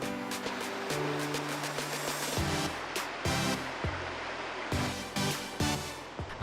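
Steady rushing roar of Palana Falls in Kalinga, where a hot spring flows beside the waterfall, dense and continuous with a few sharper splashing bursts and no voices.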